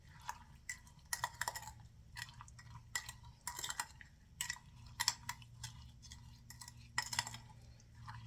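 Homemade strawberry syrup is stirred in a pot, making soft, irregular scrapes, clinks and liquid slops. The bursts come one after another for several seconds over a low steady hum, with no talking.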